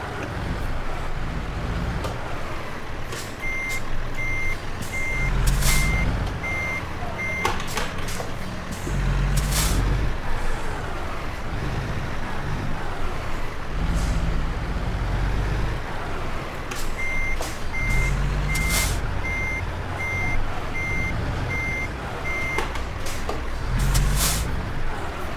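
A truck backs a trailer toward a gray building in American Truck Simulator, its reversing beeps repeating in steady pulses over a continuous engine rumble, with hissing air-brake bursts breaking in now and then.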